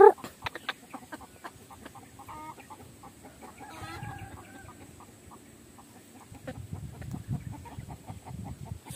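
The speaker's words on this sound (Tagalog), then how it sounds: "Tatlong inahin yung nangitlog natin." Hens clucking at feeding time on a small backyard farm after being given Tigra 3000 feed. Near, scattered clucks and short calls sound alone over a faint background rustle, with a louder squawk at the start.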